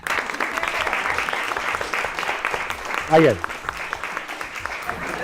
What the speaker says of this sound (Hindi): आपकी बहुत सारी तालियों में,